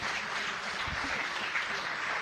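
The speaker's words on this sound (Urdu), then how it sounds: "دوسری ٹیم کے لیے بھی اتنی ہی زوردار تالیاں." Steady applause from a school audience at a competition final in Aurangabad, India, a dense sustained clatter of many hands clapping at moderate distance for a couple of seconds.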